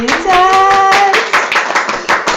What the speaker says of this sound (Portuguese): Então, uma salva de palmas para a Mari